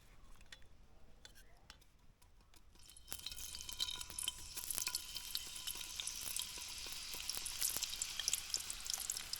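Banana slices for chips drop into hot oil in a kadhai. A quiet hiss swells abruptly into steady, dense crackling and sizzling that keeps going, with a few faint utensil clinks.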